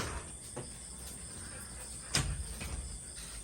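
A house door swings open with a sharp knock of the latch partway through, plus a few fainter clicks, set against a steady chirr of crickets outdoors.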